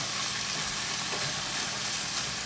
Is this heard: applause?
no